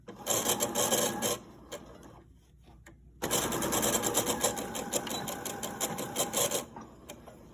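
A sewing machine stitching a fabric chicken-shaped grocery bag holder, running in two loud rapid bursts with a short quiet stop between them.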